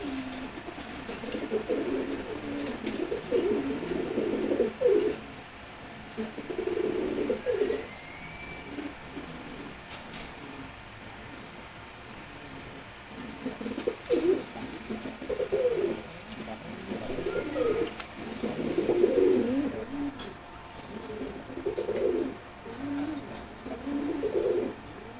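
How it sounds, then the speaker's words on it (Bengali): A pair of Putul Sobji Gorra pigeons cooing close by, repeated low rolling coos in uneven bursts that pause and resume, with a steady faint background hiss. "এটা হচ্ছে পুতুল সবজি গড়া কবুতর।"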